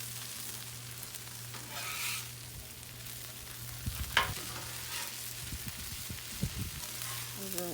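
Potatoes sizzle softly on a Blackstone griddle while a spatula scrapes and taps intermittently through them as they are mixed, the frying low and steady in the background.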